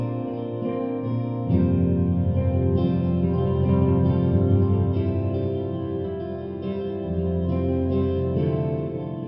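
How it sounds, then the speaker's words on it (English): Shimmer Guitar, an ambient instrument plugin by Crow Hill Company, sounds as a lush sustained chorus of guitar tones washed in reverb and echo, swelling in layered chords that shift every couple of seconds without pause. "cool ambient instrument, shimmer guitar by Crow Hill Company"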